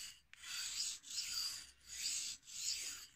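Carving knife edge sharpened with back-and-forward strokes, four even rasping swipes in a steady rhythm, each a close, bright scrape separated by brief pauses.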